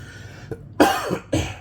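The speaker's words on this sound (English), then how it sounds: "I haven't coughed for like a very long time" A person nearby coughs twice, harsh and loud, after a brief throat sound.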